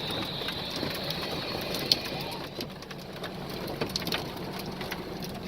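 Heavy storm rain with hail drumming steadily on a van roof, a dense continuous patter at moderate level with a few sharper isolated impacts, heard from inside the van.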